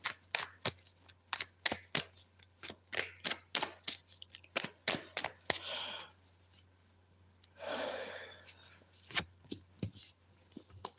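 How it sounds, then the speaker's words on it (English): Tarot cards shuffled by hand in a quick run of sharp riffling taps and slaps, close and fairly loud, with a couple of longer breathy swishes partway through and no talking. "Let's give the cards a really good shuffle."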